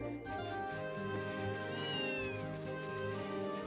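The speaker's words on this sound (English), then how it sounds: "Yep, okay, that's a cat." Cat meows in the video game Ys I Chronicles+, a few short mewing calls rising over steady background game music with sustained tones throughout.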